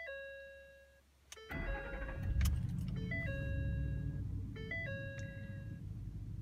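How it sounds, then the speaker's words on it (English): A Ford F250 engine cranks and catches, then settles into a steady idle rumble while electronic chimes ding repeatedly over it. "So when I turn the car on,"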